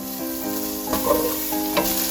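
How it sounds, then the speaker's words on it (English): Steady sizzling of bacon frying in a hot pan, with a few louder crackles and spatters over a constant hiss. "the frying pan is starting to get heated up, so we're gonna toss in the bacon"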